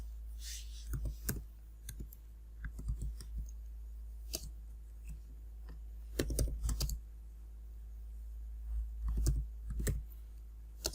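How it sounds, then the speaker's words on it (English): Quick bursts of typing on a computer keyboard while entering server update commands, clustered clicky keystrokes in short runs separated by pauses, close and fairly quiet over a faint low hum. "let me type that"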